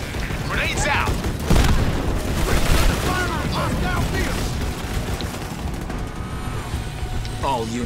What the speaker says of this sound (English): Grenades out!